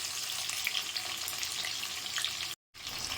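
Small onions sauté in a pan for a fish curry, a close, even sizzle and crackle that continues steadily, broken once by a brief silent gap.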